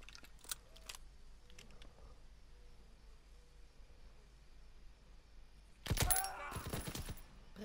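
Faint scattered clicks and pops, then a loud burst of rapid gunfire erupts near the end, sharp and close, in the World War II shooter game Call of Duty: WWII on PS4.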